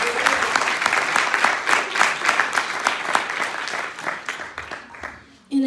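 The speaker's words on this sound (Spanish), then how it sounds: "Denle un aplauso a Dios, que se merece el honor." A church congregation applauds for about five seconds, steady and full at first, then thinning and fading out, with voices mixed faintly into the clapping.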